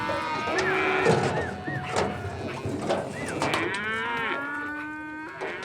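Young cattle, nearly a year old, moo at a Texas ranch near Amarillo before branding. Several drawn-out, loud calls overlap one another, with steady outdoor background noise.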